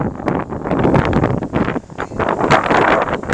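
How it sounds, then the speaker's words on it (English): Loud wind roars across the microphone in strong, irregular gusts that crackle and rumble almost nonstop, outdoors at the Tokyo Marathon near a main building that funnels wind. "That's some wind."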